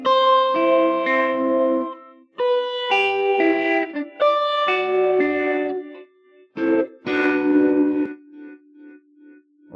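A sustained synth or keyboard melody run through a free stereo delay plugin with modulation and saturation, its repeating echoes trailing after each phrase and bouncing between channels, with no talking.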